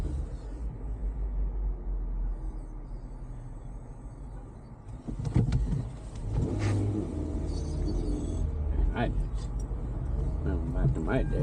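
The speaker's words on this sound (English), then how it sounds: "Watch me start this car without using the key." A car is push started without a key, and its engine catches and revs midway with a rough rumble. Voices talk over the engine noise.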